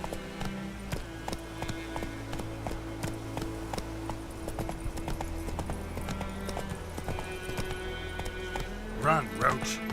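Hooves of Geralt's horse Roach clip-clop in a steady galloping rhythm in The Witcher 3, accompanied by game music, with a brief burst of louder noise near the end.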